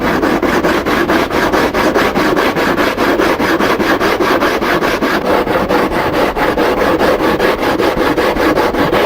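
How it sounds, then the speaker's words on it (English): A 12-inch Permagrit sanding block scrubs back and forth over a fiberglass aircraft cowling. The strokes are fast and steady, close and loud, and they rasp on without a break and without talk. "This is a 12-inch long permagrit sanding block"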